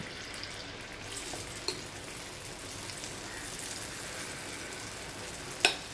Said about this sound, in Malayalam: ഇനി നമുക്ക് മാവ് ഒഴിച്ചു കൊടുക്കാം